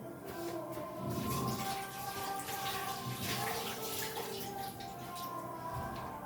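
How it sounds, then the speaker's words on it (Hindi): Hands are rinsed under a running kitchen tap during home cooking, giving a steady, fairly quiet rush of flowing water that continues without a break. "ये देखो जी, हाथ धो लेते हैं"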